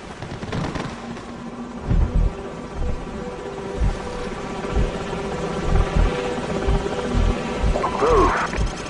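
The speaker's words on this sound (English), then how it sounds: "Enemy helicopters." Enemy helicopters in the video game Call of Duty 4: Modern Warfare, a constant rotor and engine rumble under a battle scene with scattered gunfire thumps and booms.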